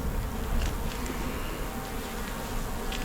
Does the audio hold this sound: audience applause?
no